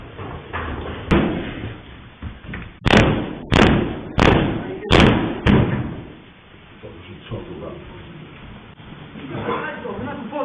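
Doors are kicked in by someone, a run of about five heavy booming thuds in quick succession at close range, with talk and a muffled voice around them.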